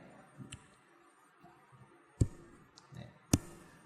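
Mouse clicks on a computer while saving a file in the Spyder code editor, a few sharp isolated clicks close up with quiet gaps between them and faint background sounds.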